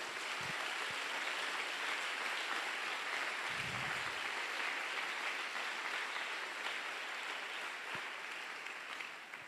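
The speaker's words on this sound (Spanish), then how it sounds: "Dale un aplauso al Señor Jesucristo." A church congregation claps after a Spanish-language sermon, a broad, steady wash of applause lasting the whole stretch with no voices on top, tapering slightly near the end.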